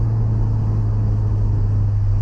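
A car's engine drones steadily while it slows on engine braking after the throttle is released, giving a close, even low hum with no talking.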